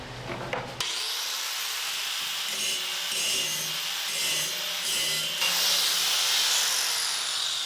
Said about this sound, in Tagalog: ang pinakamasayang part ng metal working, grinding.